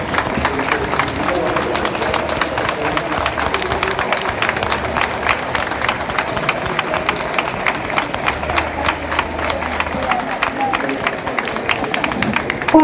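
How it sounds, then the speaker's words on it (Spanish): Audience applause at a talk on ADHD, a sustained, fairly loud wash of clapping with crowd murmur mixed in. "Fuerte aplauso para Norma"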